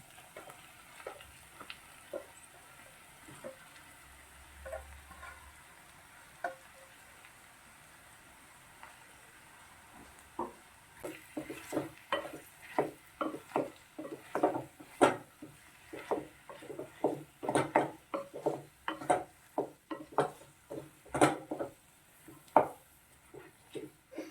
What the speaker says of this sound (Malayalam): ഇനി നമുക്ക് ഈ വേവിച്ച് വെച്ചിരിക്കുന്ന പൊട്ടാറ്റോ ഇതിലേക്ക് മിക്സ് ചെയ്യും